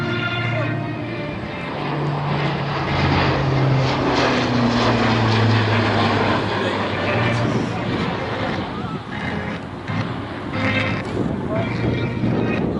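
A military transport propeller aircraft climbing steeply at the Melun Villaroche air show drones loudly and steadily, its engine pitch slowly rising and falling, continuous throughout with no break.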